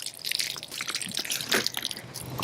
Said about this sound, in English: We're going to take some water, and I'm just going to pour water all over